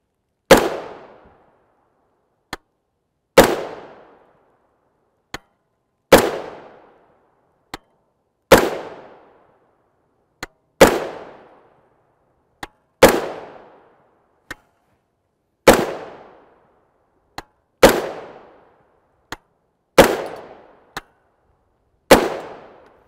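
Sharp, loud gunshots from a 10.5-inch 300 Blackout AR pistol built by Palmetto State Armory, firing Sellier and Bellot 124gr FMJ rounds, about ten evenly spaced reports with ringing decay, and fainter distant cracks from other shooters in between.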